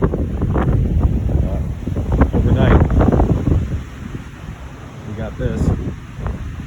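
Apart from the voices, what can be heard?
strong wind blowing on a cold winter farm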